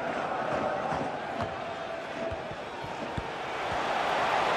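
A football match crowd roaring and cheering in a stadium, a dense, sustained wash of voices that swells slightly toward the end, heard alone without close talk.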